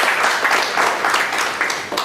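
An audience at a breakfast meeting of auditors in Bangalore gives brief applause for a speaker after an interactive session, a short burst of steady clapping.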